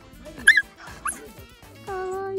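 A Plott hound gives a couple of short yips and whimpers close by, followed by a sustained higher whine, with people talking softly nearby.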